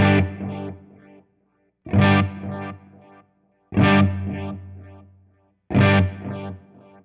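Electric guitar played through a Line 6 Helix Deluxe amp model with no compressor, four distorted strummed chords spaced about two seconds apart, each ringing out and decaying before silence.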